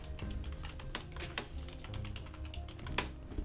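Computer keyboard keys clatter in quick irregular bursts as a comment is typed, close and fairly quiet, with no voice.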